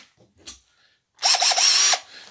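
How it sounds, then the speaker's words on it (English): A short burst of an electric drill whirring at high speed, drilling holes in a scratch-built Warhammer 40,000 Ork Stompa model, with a few quick pulses, after a moment of near silence with faint clicks. "I'm going to drill a couple of holes through here"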